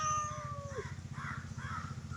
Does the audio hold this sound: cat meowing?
yes